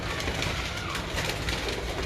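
Breeder pigeons from a champion loft coo continuously over a dense, hissy wash of outdoor noise, the calls blending into a steady murmur with no talking.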